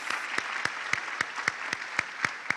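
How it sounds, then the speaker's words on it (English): An audience applauds an alumnus and ambassador at a university e-learning week event, steady massed clapping with sharper individual claps standing out at a regular beat, moderately distant. "Clap for him for me, please"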